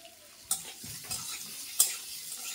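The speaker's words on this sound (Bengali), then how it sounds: "তেলের মধ্যে কাঁঠালের বীজগুলো ভেজে নেব সিদ্ধ করে রাখা।" Boiled jackfruit seeds fry in mustard oil with turmeric and salt in a pan, giving a soft, close sizzle broken by two sharp clinks of a stirring spoon against the pan, with no talking.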